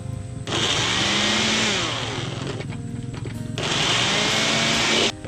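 A blender whirs loudly in two long bursts with a short pause between, its motor pitch rising and settling as it runs.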